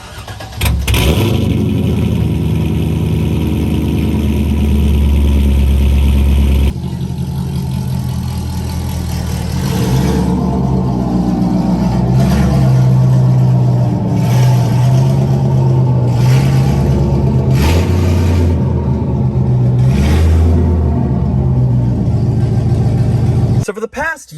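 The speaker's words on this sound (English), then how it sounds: "we're gonna pull the C5 in the garage" A C5 Corvette engine starts and idles with a deep, loud rumble, then revs lightly as the car pulls into a garage, and the low burble continues steadily until it shuts off at the end.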